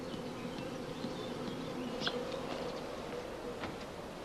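Honeybees in an apiary make a constant low, even buzz that fills the whole stretch, with a few louder passes of single insects flying close by.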